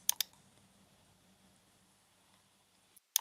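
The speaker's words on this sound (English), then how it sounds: "I'm going to head to the right hand corner and click on Add Status" Sharp mouse clicks selecting Add Status in business software, a quick double click at the start and another pair at the end, with near-silence between.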